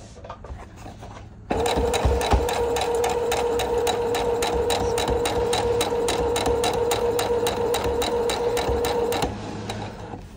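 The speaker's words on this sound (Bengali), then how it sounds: "এখন আমি সেলাইটা শুরু করতেছি, আপনাদেরকে দেখাচ্ছি" A sewing machine starts up and stitches in a fast, even rattle for about eight seconds, close and loud, then stops.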